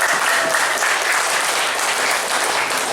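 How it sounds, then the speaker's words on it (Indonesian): Steady, dense applause from a church congregation of women at a Gereja Kristen Pasundan service, a broad even roar of many hands clapping together for the full stretch. "Ibu, tepuk tangan buat kita semua."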